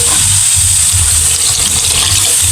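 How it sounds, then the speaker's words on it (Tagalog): Two litres of water poured over a kilo of pancit canton noodles during cooking, a loud steady gushing rush that fills the whole moment without pause and with no talk over it. "naglalagay po ako sa isang kilong kanton ng dalawang litrong tubig"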